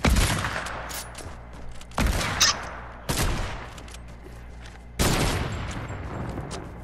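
Gunfire in the Fortnite video game, with four loud bursts of shots spaced roughly a second or two apart, each trailing off into a ringing decay with no voices over it.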